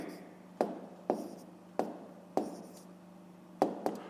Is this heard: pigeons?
no